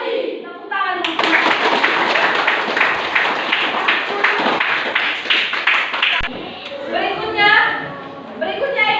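Schoolchildren in a classroom clap their hands together in a lively, loud burst with a rhythmic patter, then the clapping stops abruptly and children's voices and a teacher's speech follow.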